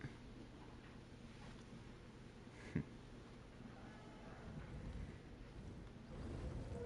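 Wind blowing outside, a soft, steady broadband rush that swells slightly toward the end, heard faintly and alone with no talk.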